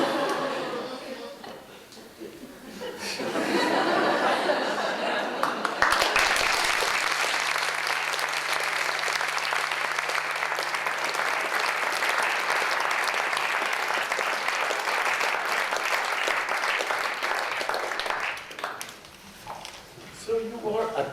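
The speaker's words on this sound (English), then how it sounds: "So you are applauding." A theatre audience bursts into loud, sustained applause after a storyteller's tale. The dense clapping lasts about twelve seconds and then fades, with a voice heard briefly before and after.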